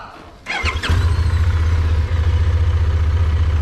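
A QJ SRT 750 motorcycle engine cranks, catches and settles into a loud, steady idle close by, with a throbbing low rumble that keeps running to the end.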